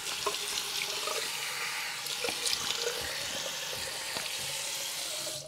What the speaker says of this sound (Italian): Mi risciacquo il viso.